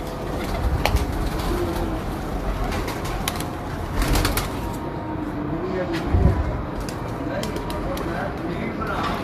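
Soft low cooing of pigeons under a steady outdoor hum, with occasional fluttering and scattered bird calls nearby; no talking.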